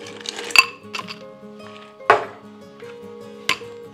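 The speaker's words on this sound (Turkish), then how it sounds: "Bir de bunun içine buz ekleyeceğim şimdi. Biraz da buz ekliyorum" Ice cubes drop into a glass of citrus mix, giving a few sharp clinks and rattles near at hand, spaced out with quiet gaps between them.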